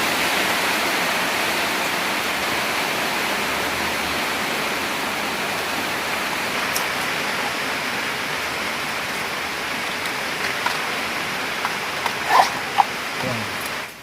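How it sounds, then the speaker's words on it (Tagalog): Heavy rain pours down in a steady, loud, broadband hiss that continues unbroken from start to finish, with a few faint knocks and scuffs near the end. "Yan na naman ang ulan."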